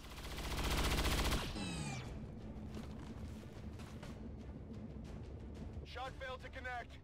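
Gunfire in XCOM 2: a loud, sustained burst of shots opens, followed by a rapid scatter of sharper individual cracks, with a voice speaking briefly near the end.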